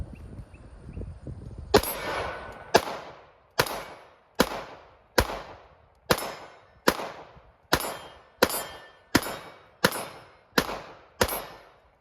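A Shadow Systems CR920P pistol firing 115 grain rounds, about a dozen sharp, loud shots in a steady rapid string, each with a short ringing decay, after a brief quiet lead-in.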